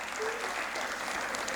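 An audience at an annual dance festival breaks into applause, a brief dense wash of clapping from many hands, steady and moderately loud, filling the hall.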